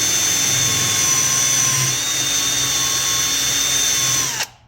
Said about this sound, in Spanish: Puedes hasta cambiarle la velocidad al taladro.